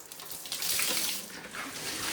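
Overflow water from a tray tipping onto a floor: a continuous rushing splash and pour lasting a couple of seconds, loud and close, with no voice over it.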